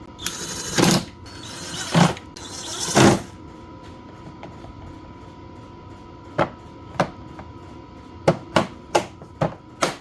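Screws are driven in on the Mikuni TM carburetor of a 2002 Arctic Cat ZR 800 snowmobile: three louder scraping bursts, then a series of close, sharp ratchet-like clicks, with no talking.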